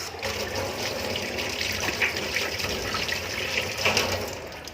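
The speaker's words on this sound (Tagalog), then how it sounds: "nagpapakulo nga pala ako ng tubig na mainit para sa thermos" A pot of water brought to a boil for a thermos bubbles and hisses steadily, a continuous close, moderately loud rush with brief surges, and no one speaking.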